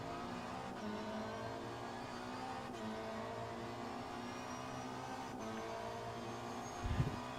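Race car engine in a sim racing game at Suzuka, held at a steady drone around 8,000 rpm, continuous and fairly quiet, with faint broadband whine and a brief low thump near the end.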